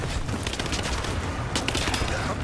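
Rapid bursts of gunfire from a Tomb Raider combat scene, a dense continuous crackle of shots with a sharper volley near the middle, loud and steady throughout with no voices standing out.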